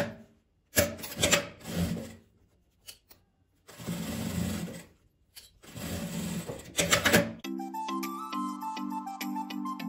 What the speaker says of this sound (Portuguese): O que, que eu vou fazer agora é passar uma costura com um pezinho de máquina fechando toda essa lateral